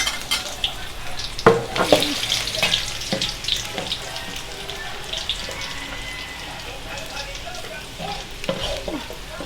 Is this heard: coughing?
no